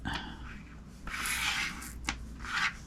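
Rocks and small carved gem pieces from a Tucson gem show haul being slid and shuffled across a tabletop, giving close, soft scraping rubs in a few bursts with one sharper click partway through.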